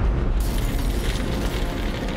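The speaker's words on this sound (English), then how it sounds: "a deafening explosion shattered the night" A factory explosion on the outskirts of Leeds at night is rendered as a loud, sustained roaring blast with a dense, rumbling low end and debris-like noise throughout.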